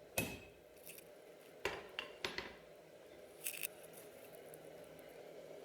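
A hammer strikes hot rebar being forged into a knife, a few sharp metallic taps spaced irregularly, then a quick double hit and a faint pair of taps, quiet against a low background hum.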